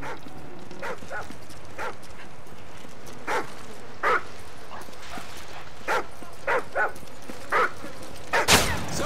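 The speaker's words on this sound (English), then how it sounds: "Thermal scans show attack dogs in your area." Attack dogs in the video game Call of Duty: Modern Warfare 3 let out about ten sharp barks and yips, spaced irregularly over a low ambient background, ending with a louder burst.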